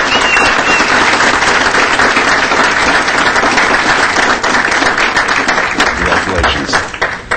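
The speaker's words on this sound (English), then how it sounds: "Let's have a round of applause." A city council chamber audience bursts into sustained, loud applause for the July employee of the month, steady dense clapping throughout with crowd noise and a voice faintly present underneath.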